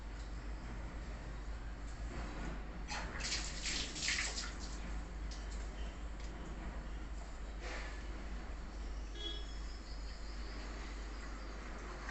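Water pours from a cup onto semolina in a steady trickling stream, with a brief louder splash partway through, against a constant low hum.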